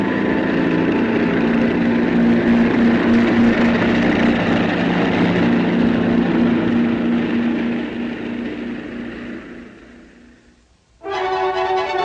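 A propeller airplane drones steadily and loudly for about eight seconds, then fades away as it flies off, leaving a moment of near silence before a different tonal sound abruptly cuts in.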